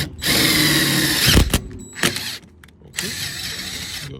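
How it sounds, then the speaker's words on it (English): A power drill drives self-tapping screws to mount a latch guard, running in two loud sustained whirring bursts split by a brief pause and a few clicks, close up with no talking. "We're using self-tappers, so we're gonna screw that in"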